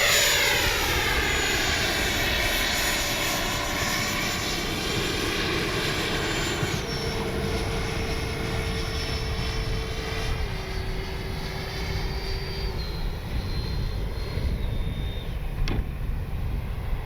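An FMS 70mm F-18 RC jet sweeps past on a low fake-landing pass, its turbine whine rising and falling with a clear pitch shift, loud and steady against continuous background noise.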